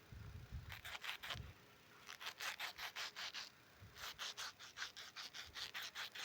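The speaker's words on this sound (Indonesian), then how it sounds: "ini sikat kawat ya. Sikat besi." A wire brush scrubs glue residue off a running shoe in quick bursts of short rhythmic strokes, close and fairly quiet, with brief pauses between bursts.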